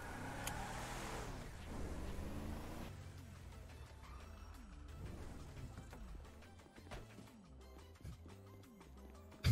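A truck engine in the video game GTA V drives steadily, its motor rumbling and shifting through gears as revs rise and fall, with no talking over it.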